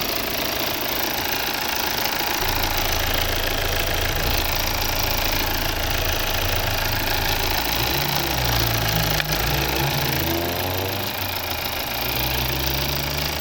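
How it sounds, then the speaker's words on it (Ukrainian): The 2.0 D3 diesel engine of a 2016 Volvo XC60 with automatic transmission idles steadily with a low, knocking rumble, close by and continuous, its pitch shifting slightly toward the end. "Ось робота двигуна."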